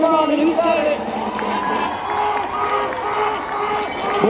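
A crowd cheers and shouts at an outdoor horse show with clowns and cars. Loud, close voices hold steady under an announcer's talk.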